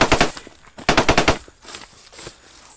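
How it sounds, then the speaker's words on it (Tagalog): Gunfire or firecracker shots ring out outdoors in rapid bursts, two sharp rattling volleys of close cracks followed by a few fainter scattered pops. "Putukan dun."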